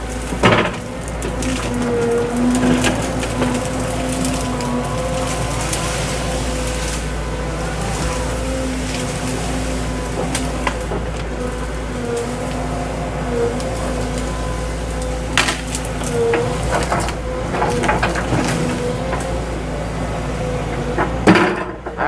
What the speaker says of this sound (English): I'm slamming this bucket like a beginner